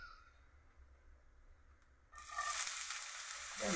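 Ingredients hit hot oil in a pan and burst into a loud, bright sizzle after a quiet start, the frying continuing steadily and close by.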